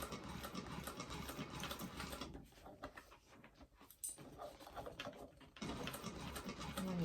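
Industrial sewing machine stitches a bag held with clips in loud, steady bursts, pausing briefly in the middle before running again, with faint bird cooing in the background.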